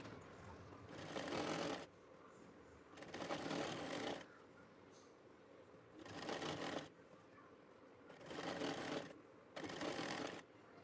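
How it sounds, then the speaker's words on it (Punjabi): A sewing machine stitches a seam along the outer side of fabric in five separate bursts of rapid whirring clatter, each a second or so long, with quiet pauses between them. "ਹੁਣ ਆਪਾਂ ਬਾਹਰਲੀ ਸਾਈਡ 'ਤੇ ਸਲਾਈ ਲਗਾਵਾਂਗੇ"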